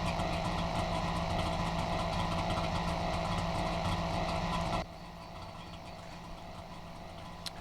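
A two-stroke engine without its own oil reservoir runs steadily in The Long Drive game, a constant buzzing drone that drops abruptly to a quieter level partway through and holds there.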